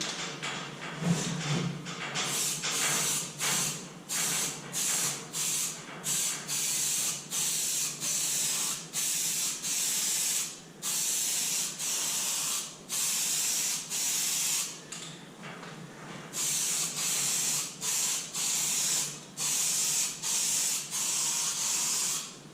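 Primer surfacer sprayed onto a Honda CBR250R MC19 motorcycle fuel tank as a heavier second coat, a loud close aerosol-style hiss in repeated long bursts separated by short gaps.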